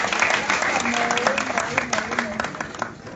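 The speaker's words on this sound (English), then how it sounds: "Please give him a big hand clap." Audience at a National Unity Platform press event applauding, a dense wash of many clapping hands with voices mixed in throughout.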